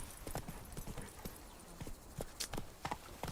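Hooves of Roach, the horse in the video game The Witcher 3, clip-clopping in a steady trot, a rhythmic run of close hoof beats over a dense game ambience.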